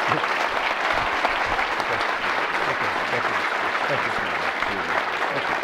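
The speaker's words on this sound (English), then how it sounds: "A round of applause, please." A lecture hall audience applauds at the close of a presidential lecture by General Michael Hayden, with full, sustained clapping from many hands, loud and steady, and faint voices low in the mix.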